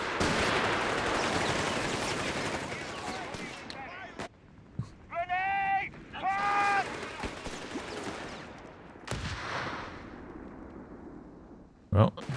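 Machine gun fire and explosions rattle through a Company of Heroes 3 battle, with bursts of shots, a couple of sharp blasts and high whistling tones between them, backed by busy battlefield noise.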